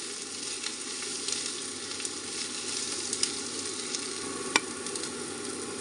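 Sliced onions frying in a pan, a steady hissing sizzle with occasional small pops and stirring clicks, close and even, no voices.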